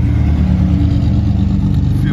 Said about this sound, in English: Sorry about the noise. Busy street today.